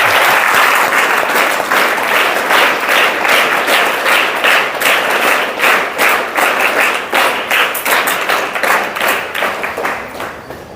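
Sustained loud audience applause at a Milad-un-Nabi gathering, dense steady clapping from a large crowd that fills the whole stretch and slowly thins toward the end.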